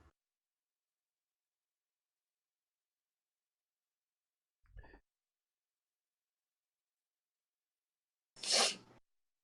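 One sharp, loud sneeze bursts out near the end, preceded by a faint short breath or sound and otherwise near silence.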